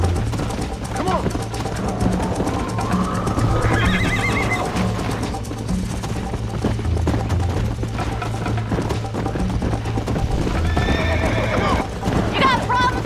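A horse in the Western video game Red Dead Redemption neighs and whinnies several times over steady galloping hoofbeats and a thick bed of game music, loud and close, with voices shouting over it.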